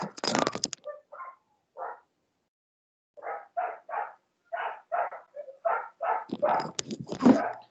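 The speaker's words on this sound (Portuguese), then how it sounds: "o cachorro continua latindo forte" A dog barks repeatedly outside a closed window during a home online class, a spaced series of sharp, muffled barks, some in quick pairs, with silent gaps between them and a louder cluster at the end.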